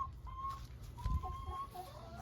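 Backyard chickens in a small flock cluck softly and intermittently at close range, with a few higher calls scattered over a steady low background hum.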